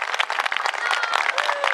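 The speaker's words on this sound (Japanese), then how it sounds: "三河伝統手筒花火連合会の皆さんに大きな拍手をお願いいたします。" An outdoor crowd at Yokohama Red Brick Warehouse applauds tezutsu hand-held firework performers, giving a short burst of dense, steady clapping close to the listener.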